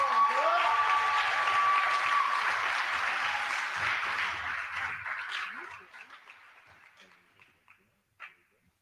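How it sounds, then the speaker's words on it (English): A banquet crowd at a convention awards dinner applauds loudly for the winners, dense clapping that holds for several seconds and then thins into scattered claps, with some voices mixed in. "So let's give one more round of applause for all of our winners."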